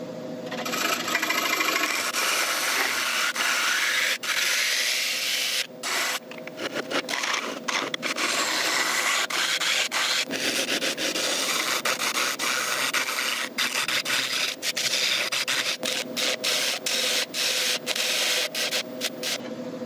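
Sandpaper rubs against a large ash wood bowl spinning on a woodturning lathe, a close, continuous abrasive hiss with short pauses and shifts in pressure, and no one speaks.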